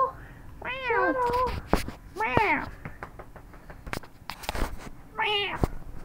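A cat meows up close three times in drawn-out, rising-and-falling cries, with soft knocks and handling noises between the calls.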